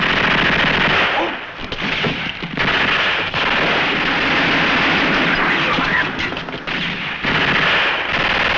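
Sustained, dense machine gun fire in a spaghetti western battle, loud and continuous with brief dips in intensity, close and alone with no talk over it.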